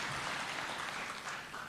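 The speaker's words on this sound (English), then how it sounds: "Another big round of applause, kindly," A faint, distant wash of audience clapping follows a poem at an outdoor environment day celebration, holding steady and tapering slightly at the end.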